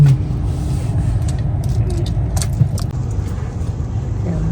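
Car engine rumbling low and steady as a vehicle pulls out of a parking lot, with a few faint clicks and jingles over the continuous motor noise.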